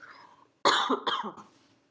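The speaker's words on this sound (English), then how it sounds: "I've had this really weird cough. I can't shake it." Two quick, raspy coughs close to the mic, the first stronger, followed by a brief throaty trailing sound.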